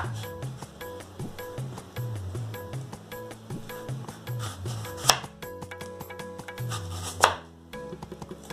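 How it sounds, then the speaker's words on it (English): A knife cuts a peeled banana into fairly thick slices, giving a steady run of soft, close chopping taps against a board with a couple of sharper knocks, and no talking. "Cut this banana into slice."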